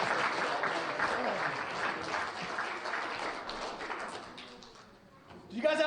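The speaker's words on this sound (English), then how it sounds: "give our 2 volunteers a humongous round of applause" Live audience applause for two volunteers at a magic segment of a conceptual show, a dense burst of clapping that fades toward the end before a voice starts speaking.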